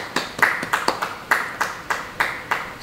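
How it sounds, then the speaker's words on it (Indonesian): A church congregation at a Bible study claps hands in a loose series of about a dozen sharp, distinct claps, moderately close and fairly regular in rhythm. "Yang percaya, beri tepuk tangan bagi dia."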